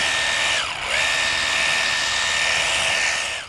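Fanttik NB8 Flip portable pressure washer on its high setting, rinsing soap off: a loud, steady hissing jet, briefly cut off and restarted about a second in, then running continuously to the end.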